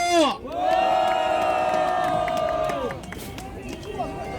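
A crowd of elderly protesters at a street rally in front of Tapgol Park lets out a loud, sustained cheer of raised voices that holds for a couple of seconds, then tapers into scattered shouting and crowd noise.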